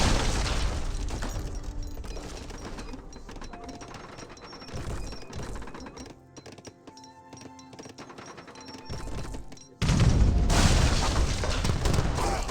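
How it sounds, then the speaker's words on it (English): Heavy booms and rattling mechanical clatter from field cannons in an Age of Empires 3 battle, with loud blasts at the start and a sudden burst of impacts near the end. "Field cannons do get a decent shot there."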